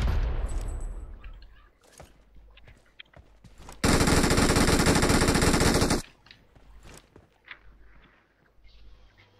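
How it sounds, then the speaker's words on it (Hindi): Automatic gunfire rattles at a monster truck in an online video game, a dense two-second burst of rapid shots loud and close, framed by quieter in-game clicks and footsteps. "अरे क्या मैंने मॉन्स्टर ट्रक पे गोलियां मारी है।"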